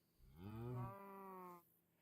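A single drawn-out moo from a moobloom cow in a Minecraft-style video game, a clear tonal low call lasting over a second, heard alone.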